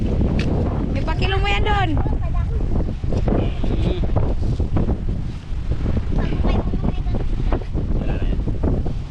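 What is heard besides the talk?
strong northeast monsoon wind (amihan)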